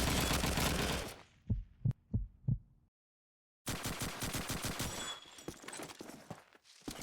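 Machine gun fire in the Call of Duty 2 video game during a competitive match: dense, loud bursts of rapid shots, a few isolated single cracks, a brief silence, then another long sustained burst.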